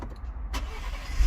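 A Ford Bronco Sport engine cranks and catches, a short burst at the start followed by a low steady rumble as it settles toward idle, close and moderately loud.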